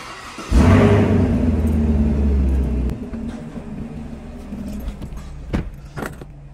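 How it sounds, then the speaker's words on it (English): Engine of a 2024 Chevrolet Camaro firing up by remote start, a sudden loud rumbling crank and flare that settles after a couple of seconds into a quieter steady idle, with a few clicks and light knocks near the end. "So let's go ahead and re-remote start the vehicle."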